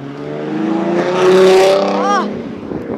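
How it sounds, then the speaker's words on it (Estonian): A car styled as the Transformer Optimus Prime drives past, its engine swelling loud as it nears and fading as it goes, with people talking over it. "See oli isegi hull auto ju."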